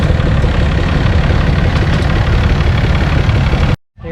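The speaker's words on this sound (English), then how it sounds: "Here's a 1962 D19 turbo diesel" A 1962 Allis-Chalmers D19 turbo diesel tractor, once a peanut-farm machine, idles loudly and steadily up close, a dense rumbling diesel clatter that cuts off abruptly near the end.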